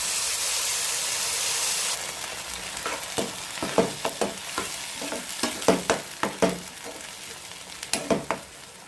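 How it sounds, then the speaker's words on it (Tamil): Onion and eggplant are sautéed with tamarind water in a pan: a steady sizzling hiss at first, then a series of sharp stirring scrapes and bursts of frying crackle, close and fairly quiet. "அந்த புளி தண்ணியை இது கூட விட்டு ரெண்டையுமே சேர்த்து எல்லாமே சேர்த்து நம்ம நல்லா வதக்கணும்."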